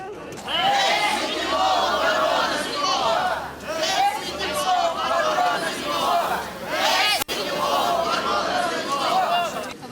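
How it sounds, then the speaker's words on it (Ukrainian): More than a hundred protesters with placards shout in unison outside city hall in Lviv, a loud, dense crowd roar rising and falling in rhythmic chanted waves that continue almost without pause. "Понад сотня львів'ян з плакатами та вигуками вимагали, щоб міський голова таки почув їхні вимоги."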